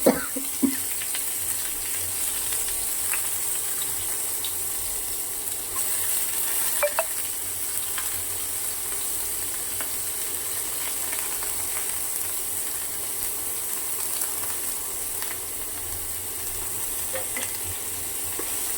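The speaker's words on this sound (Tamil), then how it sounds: "அது லைட்டாக பொரிஞ்சு வந்ததுக்கப்புறம் வெங்காயத்தை போடணும்." Sliced onions added to hot oil with curry leaves, frying in a pan with a soft, steady sizzle and a few faint clicks of a spoon stirring, close by, with no talking.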